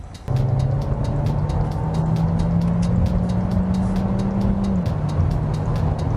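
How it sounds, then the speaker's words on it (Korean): Steady tire and road roar fills the cabin of a Kia Seltos small SUV throughout, a dense low rumble with a faint hum, constant and fairly loud while driving. "이 타이어, 그러니까 이제 하부에서 올라오는 소음이 생각보다 그렇게 작지가 않은 편이에요"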